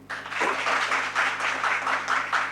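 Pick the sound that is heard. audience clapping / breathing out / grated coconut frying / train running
audience clapping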